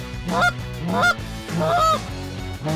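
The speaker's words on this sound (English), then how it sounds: "there's a lot of geese moving today." Wild geese honking overhead during a river hunt, a series of loud nasal calls repeating in rhythm at close range, with several overlapping honks and no talk.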